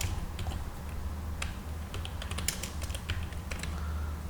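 Steady typing on a computer keyboard, a continuous patter of light key clicks with a few sharper taps, close and even throughout over a low background hum.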